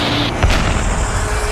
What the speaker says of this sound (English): There's an explosion on impact